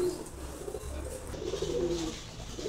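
Pigeons coo nearby in soft, repeated throaty phrases that overlap one another, with faint background noise and no talking.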